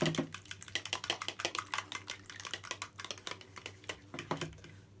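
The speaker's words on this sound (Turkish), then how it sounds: "Şimdi yumurtamı sıvı yağıma alıyorum. Çatalla şöyle biraz çırpalım." A fork whisking egg into oil in a bowl, clicking in a quick, steady rhythm of light metallic taps against the bowl, close and fairly quiet with no talking.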